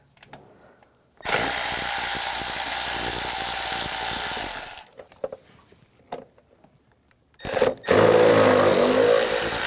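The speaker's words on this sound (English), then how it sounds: "use an 8mm socket, take these screws out" Power tool with an 8mm socket spinning out cover screws on a 2009-2013 BMW 328i xDrive 3.0L L6, a loud steady whir for several seconds, then small clicks and handling noises, and another short burst of tool whine.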